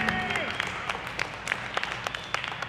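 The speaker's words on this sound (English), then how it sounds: "Go ahead, clap for yourself" A small comedy-club audience at a stand-up show claps for itself, a thin scatter of sharp individual claps rather than a full ovation, with a voice talking briefly at the start.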